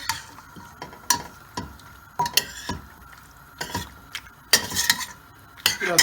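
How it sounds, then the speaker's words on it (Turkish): Metal utensil scraping and clanking against a pan in irregular strokes as fried chicken is stirred into pesto sauce, with a soft sizzle of frying underneath. "karıştırıyoruz, biraz pişiriyoruz"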